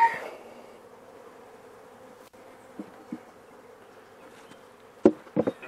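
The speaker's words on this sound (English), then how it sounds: "There's bees in there." Honey bees buzz faintly around their original old wooden hive box outdoors, a low steady hum broken by a few sharp knocks and thumps on the box near the end.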